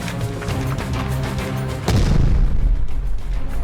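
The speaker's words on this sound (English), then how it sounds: "I said gunfire, not explosions." A rumbling explosive boom in a video game erupts partway through and keeps rolling, loud and low, after a stretch of busy background noise.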